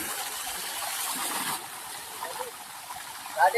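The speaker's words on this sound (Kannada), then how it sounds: "ನೀರು ಎಷ್ಟು ಚೆನ್ನಾಗಿ ಬರ್ತದೆ" A newly lowered borewell motor pump pushes water out in a steady gushing hiss that eases after a second or so, followed by softer trickling and a brief splash near the end.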